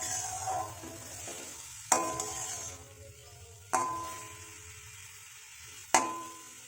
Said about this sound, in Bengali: আবারও ভালো করে কষিয়ে নিচ্ছি আমি